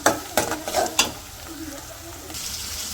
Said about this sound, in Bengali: যে পেস্টটা তো একটু হালকা ভাজে নিচ্ছি